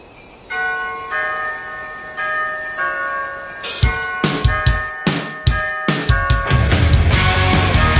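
Christmas bells ring out, sustained tones at first and then a quick series of loud, sharp strikes that build into overlapping peals.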